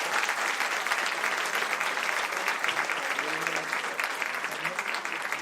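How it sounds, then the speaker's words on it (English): Audience applause at a Cannes Classics screening of a Satyajit Ray film, sustained clapping from a large theatre crowd with a voice speaking faintly beneath it midway. "Applaudissements"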